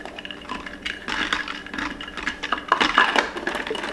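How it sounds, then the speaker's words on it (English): A spoon stirring homemade iced coffee in a glass, giving a steady run of close clinks and scraping rattles that grow busier toward the end. "And then I'll just stir it all up."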